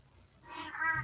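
A domestic cat, indoors, gives a single rising meow that swells and grows louder toward the end, close to the microphone.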